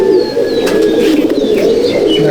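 A constant, close rumble of cooing comes from Andhra pigeons in a loft, joined by faint high whistles and short chirps that come and go over the drone.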